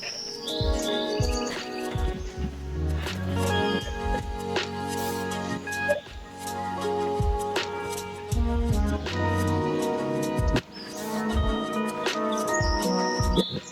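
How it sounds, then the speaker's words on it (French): Birds chirp and tweet in a cycling video game during a virtual Tour de France stage on the Montjuïc loop in Barcelona, with a dense, steady mix of repeated calls alongside tonal background sound and no talking. "Le son des oiseaux est trop fort"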